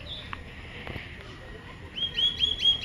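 Birds in a green park give faint, scattered chirps at first, then a clearer run of repeated high tweets toward the end, over quiet outdoor background.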